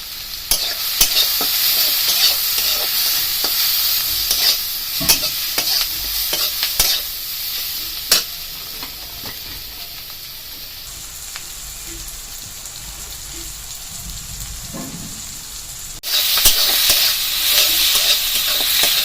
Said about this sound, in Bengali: পেঁয়াজ রসুনটা প্রায় ভাজা ভাজা হয়ে গেছে।